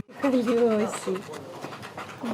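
Police search dog panting rapidly near a group of children, with quick rhythmic breaths and a few whimpering tones close by, mixed with people's voices.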